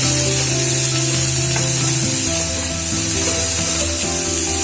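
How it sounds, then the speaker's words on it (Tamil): Green chili, ginger, onion and asafoetida sauté in a pan for kuzhi paniyaram with a loud, close, continuous sizzle. Tonal background music plays steadily underneath. "பச்சை மிளகா, இஞ்சி, வெங்காயம் இதெல்லாம் நம்ம நல்லா வதக்கிக்குவோம்."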